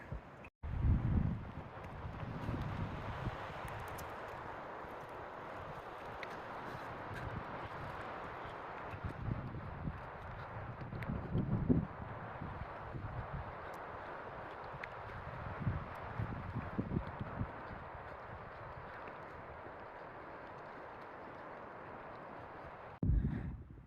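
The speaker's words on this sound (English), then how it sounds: "as you could probably tell, it does get windy here in the spring" Gusty spring wind buffets the microphone outdoors in a Flagstaff neighborhood, rising and falling in rumbling bursts over a faint background for the whole stretch.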